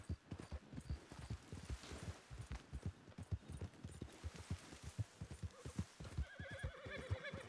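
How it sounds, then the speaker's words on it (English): Horse in the video game Red Dead Redemption 2 galloping, with a steady rapid clip-clop of hooves throughout and a neigh breaking in near the end, close and loud. "It wouldn't be a stream without being knocked off my horse."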